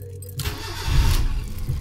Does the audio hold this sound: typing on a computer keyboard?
no